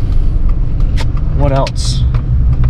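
A 4th-generation Toyota 4Runner with a long-travel overland suspension build drives along with a steady, close engine and road rumble, while someone talks briefly over it.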